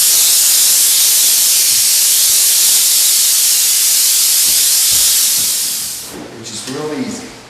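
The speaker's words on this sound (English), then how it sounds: "Today he's spraying a special stomp sealing that requires a very fine pattern" Kodiak M2 drywall texture spray machine spraying a fine stomp sealer, a loud continuous close hiss that cuts off near the end, followed briefly by someone talking.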